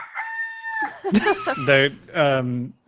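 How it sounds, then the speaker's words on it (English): A mountain rooster crows at dawn, a long bright call followed by shorter repeated crowing phrases, close and loud, with a brief sharp clatter between the calls. "The mountain rooster lets out its cry, alerting everybody that it is in fact morning."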